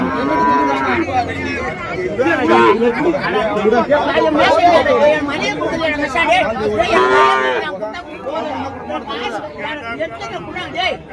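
Native cattle, including plough bullocks, moo loudly at the Matrapalli village cattle market in Tirupattur district, with long, drawn-out calls rising above close crowd chatter and people talking.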